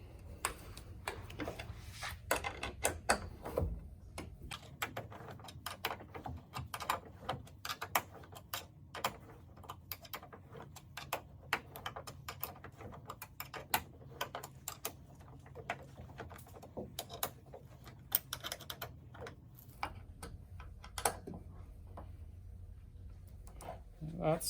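M5 Allen wrench turning a bolt on the tailgate of a 2015-2020 Ford F150 during a Dee Zee tailgate assist install, giving a quiet, irregular series of close ticking and clicking ratchet-like sounds over low background hum.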